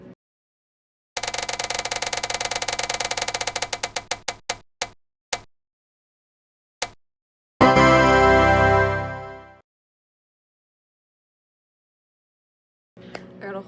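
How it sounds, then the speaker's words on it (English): A prize wheel spins with rapid clicking ticks that slow and spread apart until it stops, followed by a bright chime and later a short burst of sound. "So let's spin the wheel."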